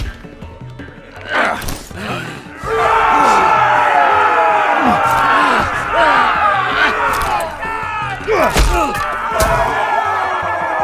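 An arena crowd roars at a pit fight in Meereen in the Telltale Game of Thrones game, with a loud sustained mass of cheering swelling after a few seconds and continuing, cut by sharp thuds and shouts.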